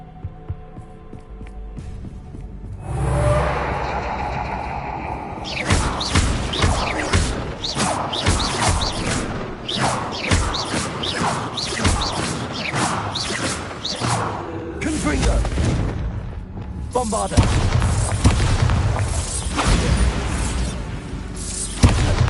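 Bombarda spell explosions in Hogwarts Legacy, deep booming thuds and whooshing blasts that repeat in dense bursts over a continuous music-like rumble, loud and close.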